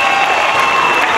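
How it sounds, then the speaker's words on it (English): Audience applause for a performing group at a competition final, a steady dense wash of clapping sustained at even loudness throughout the short stretch. "Give them a round of applause!"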